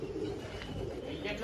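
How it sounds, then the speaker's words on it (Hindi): Pigeons flying overhead in a rooftop loft flock, soft cooing and wing sounds over a steady background hum, brief and faint throughout. "पूरी 3 उड़ रहे हैं ऊपर।"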